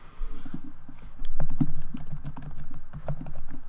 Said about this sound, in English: Now here, let's type it.